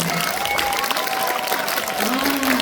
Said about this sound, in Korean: 근데 박수가 약해요